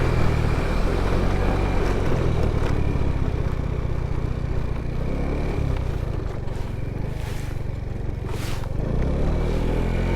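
A GY6 50cc Boom PYT Revolution scooter rides along a canal bank, its small engine droning steadily and loud throughout with continuous wind rush and road rumble.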